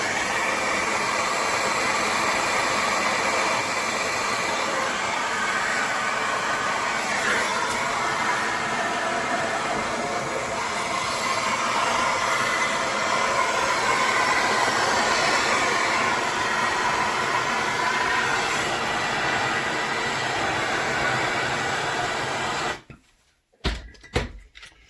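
A heat gun warms the rear wheel bearing housing of a Ford Fiesta ST, giving a steady, loud whooshing hiss that runs unbroken for most of the clip, then stops and is followed by a few brief knocks.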